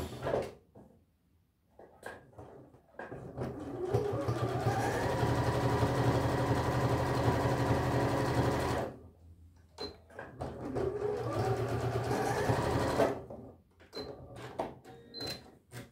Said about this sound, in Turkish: Buradan düz dikişte cebimizi dikiyoruz.